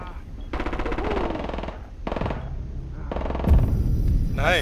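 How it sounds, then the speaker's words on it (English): SMG fire in Rainbow Six Siege comes in three rapid sustained bursts, loud and close, separated by short pauses, with game effects and a brief tonal sound at the end. "that SMG is still insane"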